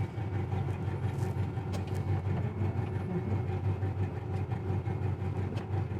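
A 1969 Pontiac GTO engine idles steadily with a low, even rumble throughout, close and continuous with no talk.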